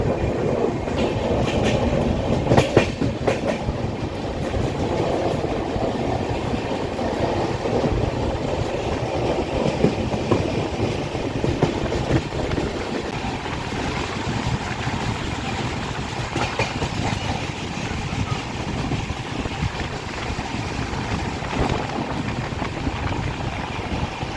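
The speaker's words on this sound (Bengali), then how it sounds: "ট্রেন ক্রস করছে এখন new Farakka junction railway station" The 13182 Kaziranga Express rolls through New Farakka Junction without stopping, a steady loud rumble of wheels and wagons with rhythmic clickety-clack running throughout, heard from on board.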